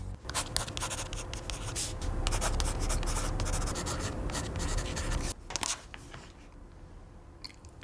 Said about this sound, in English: I don't think any of that comes close to how it feels to write on the Paper Pro.